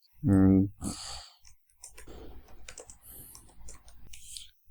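Several quick keystrokes clatter on a computer keyboard while load values are entered in STAAD Pro structural software, close and fairly crisp, scattered between stretches of someone speaking.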